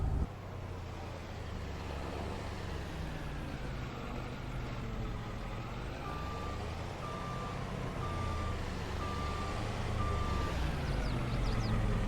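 Mulch delivery truck backing up, its reversal alarm beeping in a regular evenly spaced series over a constant low diesel engine drone, fairly close and running without voices.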